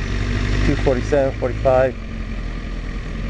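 An overheating motorcycle engine idles in stop-and-go traffic, giving a low, steady rumble beneath a man's brief speech, and continues alone after he stops talking.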